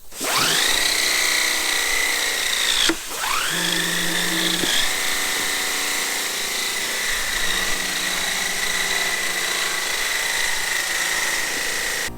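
A filter blaster sends a continuous loud hiss of compressed air through a combine's pre-cleaner filter. There is one brief dip partway through, and the whine shifts in pitch as the nozzle moves, with no talking.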